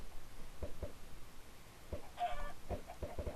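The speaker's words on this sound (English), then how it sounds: "Chickens!" Chickens cluck in short, separate bursts in a video game, with one higher squawk in the middle, fairly close over a faint background hiss.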